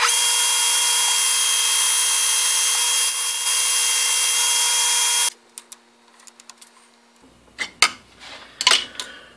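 A metal lathe runs with a steady, bright mechanical whir for about five seconds while a zinc ring mold is being turned, then it stops abruptly. A few scattered clicks and knocks follow in the near silence.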